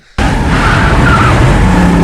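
A car skids in a movie scene from Interview with the Vampire (1994): after a brief silence a loud, continuous tire-screeching roar starts abruptly and holds steadily to the end.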